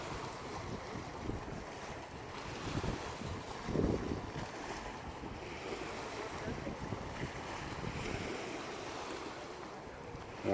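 A shuttle boat passing on the water in the Bay of Quiberon, a low engine rumble mixed with wind buffeting and waves lapping, heard from a sailboat, steady and moderately distant.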